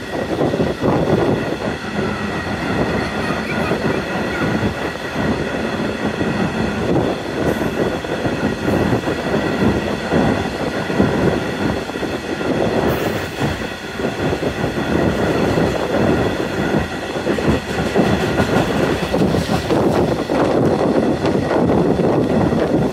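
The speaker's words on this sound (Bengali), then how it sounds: "আমাদের ট্রেনটি এখন 40 কিলোমিটার গতিতে নিমতলা রেলওয়ে স্টেশন থ্রুপাস" A stone-carrying freight train runs through Nimtala railway station at about 40 km/h, giving a loud, continuous rumble with rhythmic wheel clatter and occasional high squeals, heard without any talk.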